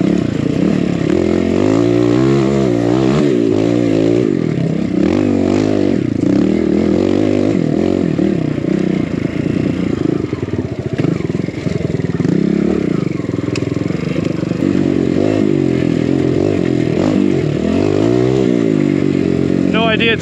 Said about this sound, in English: Here, lots of engines going.